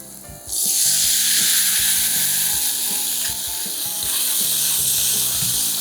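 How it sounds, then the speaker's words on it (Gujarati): Kadhi mixture hits hot oil tempered with asafoetida, bursting into a loud, steady sizzle after a brief quiet start, with faint clinks and stirring underneath throughout. "હવે જે આપણે કઢીનું મિશ્રણ છે એડ કરી દઈએ"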